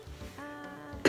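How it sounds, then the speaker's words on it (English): A single person coughs once, loud and close, a short throaty burst at the very end after a brief strained vocal sound. "I know you don't want to hear me cough like that"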